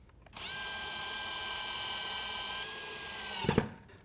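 A power drill drives the mounting screws of an in-wall smart dimmer, a single continuous high whine of about three seconds, close and steady, ending in a short clunk as the screw seats.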